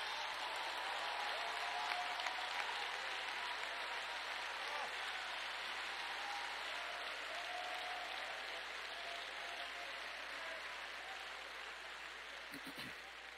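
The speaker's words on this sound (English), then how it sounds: "Clap your hands and welcome it." Congregation at a church revival service clapping hands, a dense, even roar of applause sustained throughout at a moderate distance.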